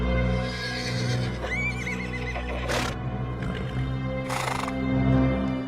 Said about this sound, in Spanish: el caballo, que cada vez estaba más nervioso y no paraba de relinchar